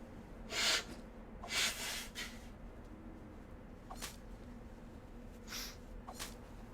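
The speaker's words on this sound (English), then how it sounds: "Excuse me, I have to blow my nose." Someone with bad allergies blows their nose in several short, breathy honks. Two louder blasts come first, then fainter snorts follow at uneven gaps in a quiet room.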